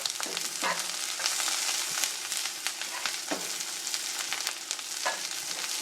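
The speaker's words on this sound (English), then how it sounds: "I brown the onion, or not brown it, but I sort of just cook it until it's cooked through and softened" Onion sizzles steadily in a non-stick frying pan, a dense continuous crackle with occasional scraping stirs of a spatula, close and moderately loud.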